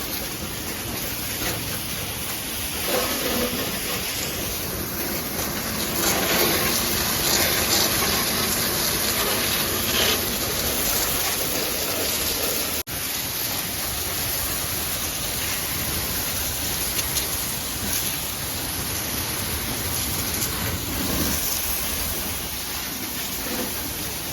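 A constant, roaring hiss of a pressure washer spraying water on a tractor runs unbroken for the entire stretch, loud and close, with no voices.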